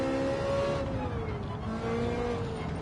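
A race car in Gran Turismo 7 on hard compound tyres drives around Brands Hatch, its engine a steady close drone that shifts pitch as it changes speed, alone without talk.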